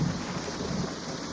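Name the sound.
rain and thunder in a cartoon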